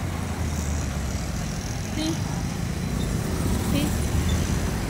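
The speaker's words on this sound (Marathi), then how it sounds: "आता आली बघा तिकून मुंडवा केशवनगर घोरपडी गाडी आली आता तिकून" A bus on the Mundhwa–Keshavnagar–Ghorpadi route approaches along the street amid steady roadside traffic rumble, with a few faint horn-like tones and a person speaking over it.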